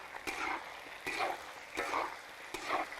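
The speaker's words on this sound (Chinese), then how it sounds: "炒香了倒鸡" Chicken stir-fried in rendered chicken fat with scallion, ginger, garlic, dried Sichuan peppercorns, chilies and spices for big plate chicken, a steady close sizzle broken by four rhythmic scraping stirs of the spatula in the wok, with no voices.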